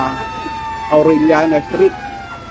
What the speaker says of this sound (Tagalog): Dumating na rin ng iba pang mga fire truck na nandito